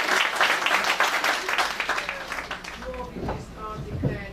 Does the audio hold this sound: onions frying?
no